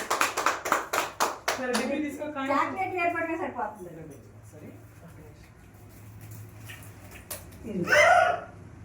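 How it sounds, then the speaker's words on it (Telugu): Children clap their hands in a quick burst of about a dozen sharp claps, then voices chatter and laugh, and one more brief clap comes near the end. "క్లాప్స్ కొట్టుకోవాలి"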